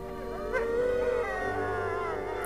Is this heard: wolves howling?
yes